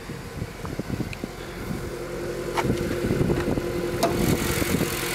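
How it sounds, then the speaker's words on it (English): A standard Honda Civic engine idles steadily under the bonnet, a low continuous hum with small irregular clicks and ticks on top, alone with no voices. "Engine's on, as you can hear."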